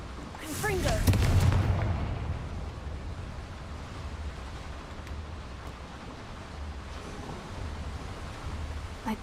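A Confringo blasting spell going off in Hogwarts Legacy, heard as a single booming burst near the start that fades into a low rumbling ambience, with a voice briefly speaking before it.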